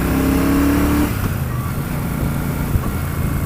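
A Royal Enfield Super Meteor 650 motorcycle accelerates with a loud, steady engine drone. The pitch climbs for about a second, then drops to a lower, rougher sustained tone. Wind noise is present and nobody speaks.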